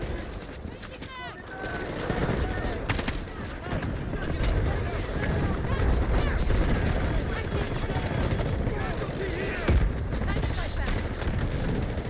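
An artillery barrage in the Delta Force shooter game: a dense battlefield roar of distant explosions, gunfire and helicopter rotor din continues throughout, with voices talking over the chaos.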